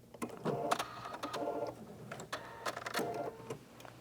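Sewing machine stitching down a zipper, short bursts of rapid mechanical whirring and clacking in a few runs with brief pauses between, close and clear.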